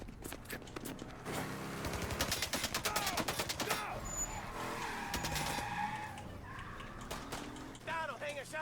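Cars chase and skid through the streets in Mafia Definitive Edition, with long tire squeals, revving engines and bursts of rapid gunfire up close, under a voice.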